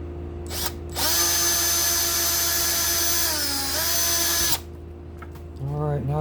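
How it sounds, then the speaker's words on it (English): A power drill bores holes for guitar braces, running loud and steady for about three and a half seconds with a pitch dip partway, then stopping. Brief voice sounds come before and after it. "Get this other one drilled over here."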